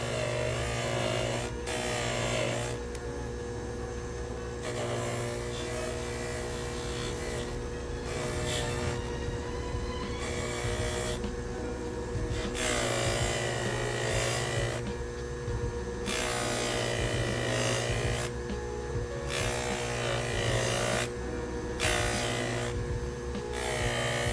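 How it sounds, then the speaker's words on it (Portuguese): Dense, steady rubbing and rasping from hand polishing tooth marks off the beak of an Eb clarinet mouthpiece during restoration, close and continuous, with short strokes recurring in irregular bursts and a constant hum underneath. "Aqui onde eu estou polindo é a parte onde tinham as marcas de dente."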